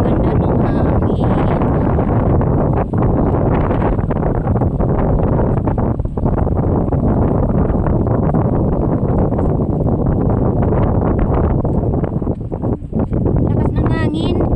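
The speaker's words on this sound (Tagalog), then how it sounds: "Lakas ng hangin." Strong coastal wind buffets the microphone in a loud, steady roar that lasts the whole stretch, with people talking now and then underneath it.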